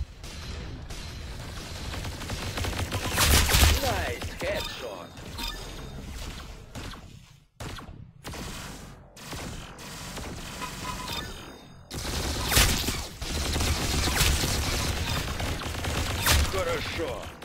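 Rapid bursts of video-game gunfire crack loudly and densely, with brief pauses near the middle before the shooting resumes, over a layer of game sound effects.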